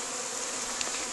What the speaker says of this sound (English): we still have some bees in the lid